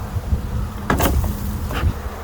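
Honey bees buzzing around an open hive while a beekeeper adds excluders and supers, a steady close drone with a couple of louder passes as individual bees fly near.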